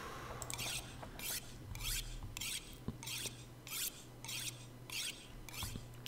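Tool being sharpened on a whetstone in the survival game The Long Dark, about eight steady rasping strokes in a regular back-and-forth rhythm over a low background hum, close and moderately loud with no talking.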